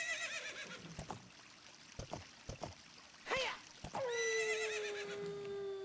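Epona the horse neighs in the video game Ocarina of Time. The drawn-out whinny comes near the end, after a few soft hoof clops and splashy taps, and it is fairly clear against a quiet background.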